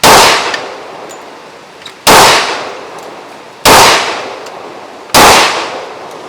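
Four loud, sharp gunshots from a Rock Island 10 millimeter pistol, fired about every second and a half, each with a ringing decay, outdoors and close.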